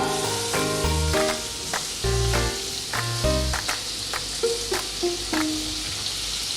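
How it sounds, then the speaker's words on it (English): Onions for a malai kofta gravy frying in two tablespoons of oil: a steady close sizzle running throughout, with tonal music playing over it and no talk. "For that, we'll take 2 tablespoons of oil. Add the onions."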